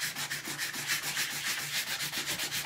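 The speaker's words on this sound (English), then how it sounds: "Let me just sand this down." A 150 grit sanding block is rubbed by hand over wood in quick, steady back-and-forth strokes, a close, rhythmic rasping scrape with no talking.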